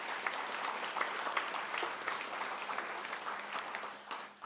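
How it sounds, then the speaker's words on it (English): An audience at a Minnesota Peace Initiative talk applauds steadily, a dense, even clapping that holds for several seconds before tapering off at the end. "let's have a round of applause for Bill Bledsoe"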